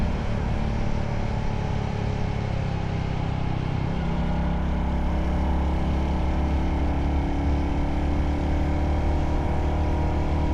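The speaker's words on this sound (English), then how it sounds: "Just listen to this engine." A steady engine drone with wind rush, continuous and loud throughout, from a nearly new Royal Enfield Hunter 350 motorcycle cruising at speed on Highway 215.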